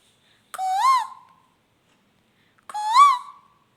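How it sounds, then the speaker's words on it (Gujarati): A koel calls twice, two rising clear whistled notes with rich overtones separated by a couple of seconds of quiet, fairly close and alone. "કોઈએ લાવી કોયલ આવી જો કેમ બોલે કોયલ"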